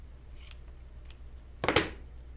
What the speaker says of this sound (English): I'm just gonna cut that tip off.